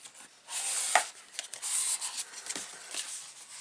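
A folded paper card is burnished with a soft, close scraping rub: short breathy strokes repeated several times, quiet and dry, with no talking.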